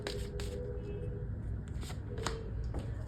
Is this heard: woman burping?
no